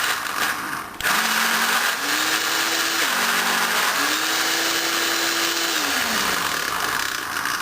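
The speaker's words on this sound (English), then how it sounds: "Might take a while for the chickpeas and all the rest of it to blend" A blender whirs loudly as it purees red pepper hummus with chickpeas, starting abruptly and holding a steady motor drone whose pitch rises and dips as the thick mixture loads and frees the blades.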